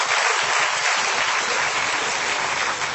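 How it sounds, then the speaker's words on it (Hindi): Loud, dense applause from an audience at a Hindi poetry recital, sustained clapping that fills the room without a break. "एक बार ताली बजाइए जोरदार आप।"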